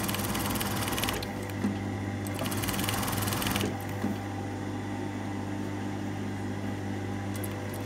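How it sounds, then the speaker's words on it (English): A sewing machine runs a stay stitch along the edge of a collar in short, close bursts of whirring motor over a steady background hum, stopping and restarting a few times before falling quiet. "run a stay stitch on the edge"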